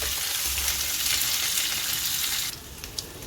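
Ginger garlic paste, curry leaves and onion sautéing in hot oil, a loud continuous sizzle that drops abruptly partway through to a quieter fizz with a few small clinks.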